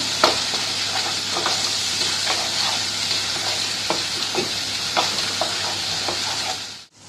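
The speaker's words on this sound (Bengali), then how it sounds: "টেস্টটা ব্যালেন্স করার জন্য দেব এক চামচ চিনি এবারে এটা নাড়বো" Potato dum curry fries in a pan under a loud, steady sizzle, with a spatula scraping and stirring in repeated strokes. No one speaks, and the sizzle cuts off sharply at the end.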